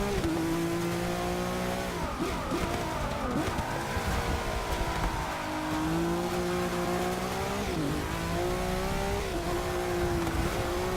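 A Nissan GT-R Nismo lapping Hockenheim, its engine droning loud and continuous as the pitch climbs and drops through the corners, heard from inside the car with no voice over it.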